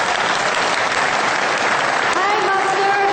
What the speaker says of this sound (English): let's now welcome Supreme Master Ching Hai with a warm round of applause